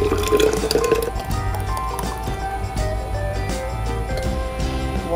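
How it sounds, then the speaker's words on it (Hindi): Freshly blended smoothie poured into a glass, a continuous liquid pour with gurgling and dripping, fairly close and steady throughout. "ये बन गया है मेरा स्मूदी। अब मैं इसमें डाल रही हूँ"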